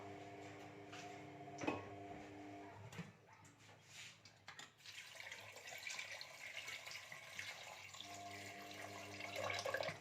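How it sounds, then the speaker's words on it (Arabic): Water pours into a cooking pot while preparing Moroccan harira soup, a faint running gush that comes and goes between soft kitchen knocks and clatters. "هنايا غادي نزيد الماء"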